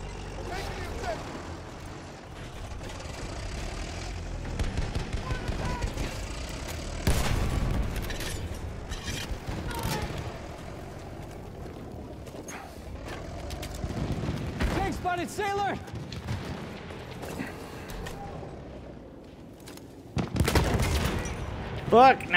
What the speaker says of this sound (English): I hear a tank. Got tank inbound.